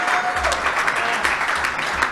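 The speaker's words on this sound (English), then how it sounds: "give ourselves some applause" A crowd at a comics award ceremony in Baltimore claps together, producing a steady wash of applause with some talk or cheering mixed in beneath it.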